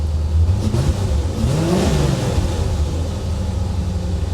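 A 1985 Chevy Corvette V8, freshly repaired and now firing on all eight cylinders, revs up and settles, a steady loud engine rumble with a rising and falling rev near the middle and no talking.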